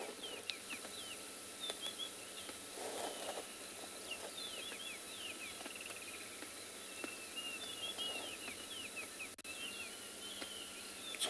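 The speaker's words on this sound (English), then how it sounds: "Hear the wonderful birds." Many birds sing and chirp at sunrise on safari, repeated bright calls scattered near and far over a steady insect and cricket drone, with no talking.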